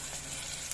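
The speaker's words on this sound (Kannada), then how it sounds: "ಟೊಮೆಟೊ ಮೆತ್ತಗಾಗುತ್ತನ ಫ್ರೈ ಮಾಡ್ತೀವಿ" Tomatoes frying in a pan alongside capsicum, green peas and paste for a soya chunks pulao, giving a steady, even sizzle throughout with no talking.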